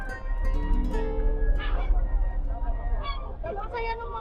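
Several geese honk repeatedly from nearby in Estonia, calls overlapping in uneven bursts while people talk quietly underneath.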